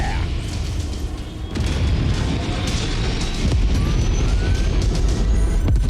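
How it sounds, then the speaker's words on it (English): Deep booming explosions in the video game MechWarrior 5 rumble one after another beneath a continuous roar of noise, with a rising whine partway through. "That's why you hear all those explosions."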